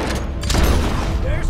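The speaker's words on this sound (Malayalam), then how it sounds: "വെടി വെക്കണം, ആകാശത്തുനിന്ന് വെടി വെച്ച് കഴിഞ്ഞാൽ അതിന് ഈ തോക്കാ ബെസ്റ്റ്" Gunfire rattles through a Red Dead Redemption 2 gameplay session, loud dense booms and thumps layered under a talking voice.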